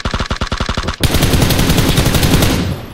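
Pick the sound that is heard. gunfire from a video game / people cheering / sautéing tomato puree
gunfire from a video game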